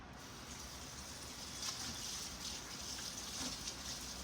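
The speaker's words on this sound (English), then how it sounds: "I'm gonna rinse it though." Tap water runs steadily into a sink to rinse an item while cooking a budget spaghetti dinner, a soft continuous gush with no talking.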